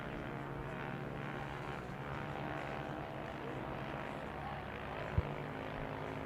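Racing motorcycles, including a 2008 KTM, on a track. A continuous buzzing engine drone with steady harmonic whine, heard from a distance and holding level throughout, with one short sharp knock near the end.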